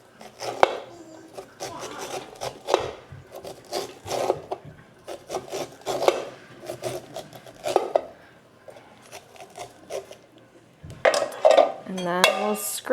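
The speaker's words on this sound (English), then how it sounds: "So I'm just gonna kind of get those kernels off like I would the regular corn." A knife cutting kernels off sweet corn cobs on a board, with uneven scraping and rasping strokes, occasional knocks against a dish, close and fairly quiet.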